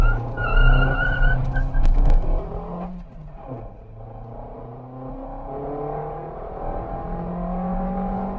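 A Maruti Suzuki Ignis with a manual gearbox launches hard from close range, its engine revving loudly and climbing. A brief dip marks a gear change before the revs rise again through the next gear.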